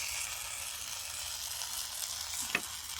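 Mourala fish and potato curry sizzles softly and steadily as it sautés in a pan, with one faint stirring clink near the end and no talking.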